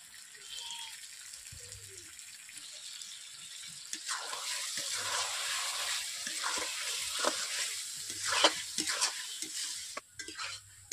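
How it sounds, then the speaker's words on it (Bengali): Chicken cooking in a pan with watered-down cashew paste added, a soft sizzle under intermittent stirring scrapes and light splashing, fairly quiet and close. "জল দিয়ে কাজু পেস্টটা আমি এভাবে ঘুটে নিচ্ছি, তারপর কাজু পেস্ট দিয়ে দিচ্ছি"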